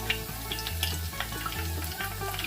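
Pieces of pike fry in hot oil with a dense, steady crackle and scattered sharp pops, close and fairly loud throughout, with no voices.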